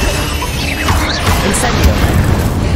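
Confringo spell fired in Hogwarts Legacy combat, a dense, loud blast of crackling, booming game effects with squealing whooshes layered over a steady roar of battle noise.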